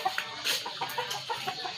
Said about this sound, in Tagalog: i-check natin yung mga manok natin kasi nagkagabi na.